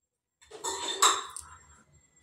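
A spoon stirs batter with a little soda mixed in, clinking and scraping against a metal bowl in one short burst of about two seconds, close and fairly loud.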